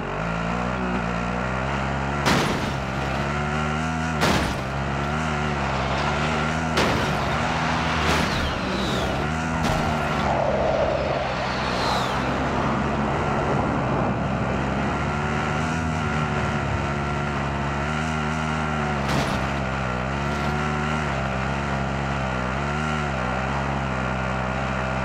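A vehicle drives in Call of Duty: a steady, loud engine drone holds throughout with a few sharp knocks and clicks over it.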